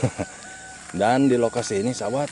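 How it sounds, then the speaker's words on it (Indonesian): Chickens cluck faintly beneath someone talking on a misty morning in a rural Sundanese village in West Java, a few short bursts early on before his voice takes over. "Aduh itu suara ayam."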